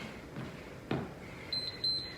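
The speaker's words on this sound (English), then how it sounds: "When you hear that beep, you can relax again." A short electronic workout-timer beep during a strength routine with light dumbbells and a chair, clear but fairly faint, with a few softer tones trailing after it.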